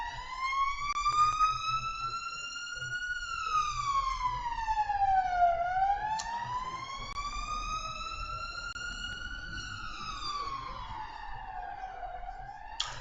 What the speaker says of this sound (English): oh my gosh, that is some loud police siren